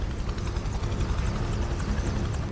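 A helicopter in Prototype 2 keeps up a steady rotor chop and engine roar, loud and close, running continuously without a break.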